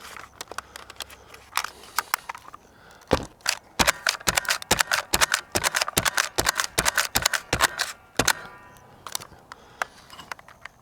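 A paster gun is snapped repeatedly to stick pasters onto a shooting target at a range, a close, irregular run of sharp clicking and clacking bursts, sparse at first, then dense, then tapering off.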